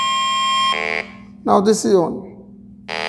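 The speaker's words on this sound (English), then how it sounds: "It is sucking that gas and then it is giving you alarm." A refrigerant leak detector's electronic alarm beeps in steady tonal bursts, loud and close, stopping while someone speaks briefly and then sounding again.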